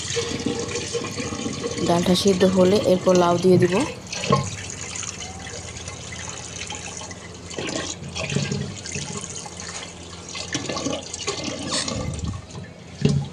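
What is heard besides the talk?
water running while washing anchor dal for the pressure cooker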